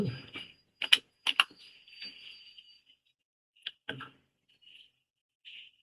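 Someone types a disk command on a computer keyboard, producing a few quiet, scattered key clicks in short bursts separated by pauses.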